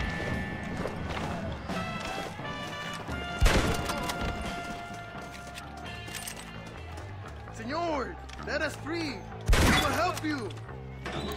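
Gunfire in the Red Dead Redemption video game sounds as two sharp, loud bursts a few seconds apart over a busy game soundscape with hoofbeat-like clatter, while people talk throughout.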